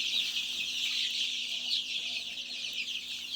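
Chickens cluck and chatter in a poultry room closed in with plastic and tarpaulin to keep warm, a dense steady flock murmur at moderate distance, with no talk.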